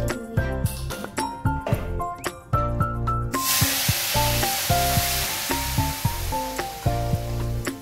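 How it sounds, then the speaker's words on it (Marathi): Hot water poured into a pan of upma being cooked, giving a sudden broad hiss and sizzle that builds partway through and stays continuous over scattered clinks and knocks. "त्याच्यामध्ये आता गरम पाणी वरती घालूया"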